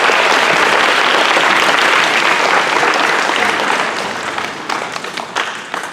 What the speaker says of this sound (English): let's start with a quick thank you to your family with a round of applause